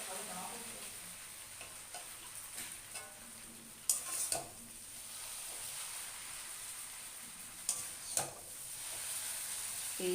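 Chow mein is stir-fried at a street food stall: a steady sizzle and hiss with the scrape of a spatula, and a few loud metallic clanks against the pan.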